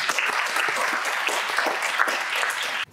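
An audience applauds students at an electric-vehicle education launch event, a dense, even burst of many hands clapping that carries on steadily before cutting off at the end.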